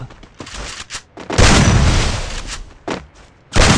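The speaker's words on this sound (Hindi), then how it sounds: "इस बार मैं शॉटगन चलाऊंगा" Heavy M1887 shotgun blasts in a mobile shooting game, several loud, close booms in irregular bursts with short gaps of quieter game noise between them.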